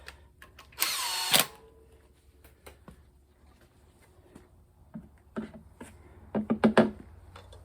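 A power tool on a 1951 Buick Special engine whirs in one short, loud burst to spin head bolts down, followed by scattered clicks and clunks of bolts and tools nearby.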